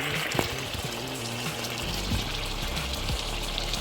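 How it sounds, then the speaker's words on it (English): A couple cups of water poured into a pot of chicken in broth, a faint, close splashing and trickling for a few seconds. "now we're going with a couple cups of water"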